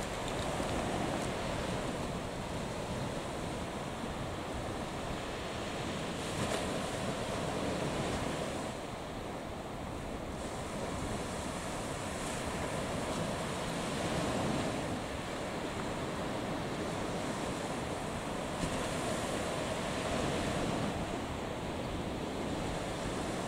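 Ocean waves wash onto Kirara Taki beach in Shimane, Japan, with wind buffeting the microphone: a continuous loud roar of surf and gusts, with slow swells in loudness and no voices.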